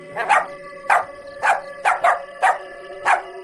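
A dog barks loudly and repeatedly, seven sharp close barks in an uneven rhythm, alone with no talk.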